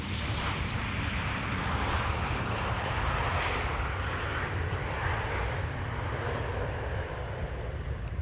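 A jet airliner lands at Amsterdam Schiphol Airport without reverse thrust, a loud, steady broadband engine roar with wind rush holding evenly throughout, no rise or surge.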